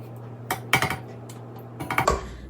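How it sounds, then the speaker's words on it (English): A silicone spatula scrapes around the sides of a mixing bowl of dairy-free chocolate chip cookie dough, making two close bursts of short soft scuffing strokes with a quiet pause between, heard alone. "I'm going to take a trusty silicone spatula and just scrape down the sides"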